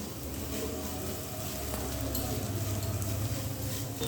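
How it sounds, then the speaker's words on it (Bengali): Bitter gourd, potato, egg and onion fry together in a pan, giving a steady close sizzle and crackle that runs without a break. "তারপর সব কিছু দিয়ে আবারও একটু এক মিনিট মতো ভেজে নিতে হবে"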